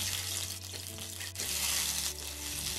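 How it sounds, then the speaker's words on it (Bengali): Eggs frying in a pan give off a steady, close sizzle with a few faint stirring scrapes, and no voices are heard. "ভালো করে ডিমগুলোকে আমি একটু ভেজে নেব"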